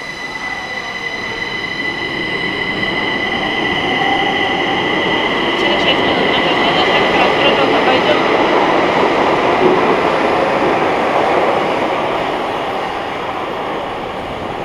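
A Moscow metro train runs steadily through an underground tunnel, a loud continuous rumble with high squealing wheel tones that swell toward the middle and ease off at the end.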